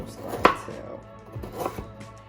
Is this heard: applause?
no